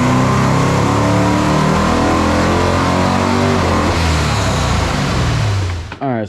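A 1967 Corvette 427 V8 roars on a dyno, its loud engine note climbing steadily through a hard rev before the dyno cuts it off and it drops away at the very end.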